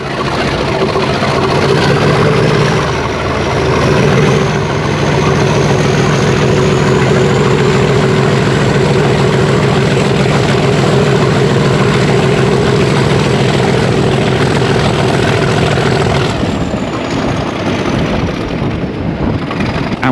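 A Class 37 diesel locomotive hauling a train near Goodrington Sands roars steadily and loudly under full power, a sustained engine drone with a rising whine that fades near the end.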